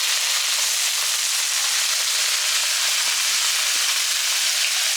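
Steaks sear in a very hot pan, giving a loud, dense, continuous sizzle and hiss close by, steady throughout with faint crackles and no talking.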